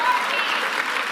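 An audience claps at a political speech, a dense, loud burst of applause that holds steady for about a second without letting up.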